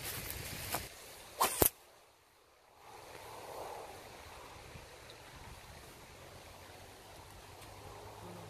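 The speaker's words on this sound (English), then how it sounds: "This wind is awful." Strong outdoor wind at a fishing spot roars as a steady broadband rush, with a few sharp gusting bumps and handling knocks near the start, then a constant close buffeting.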